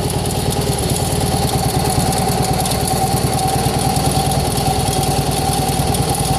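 Air Horse hydrostatic aircraft tug engine running with throttle applied, a loud steady close-up engine drone with a fast even pulse and no pauses.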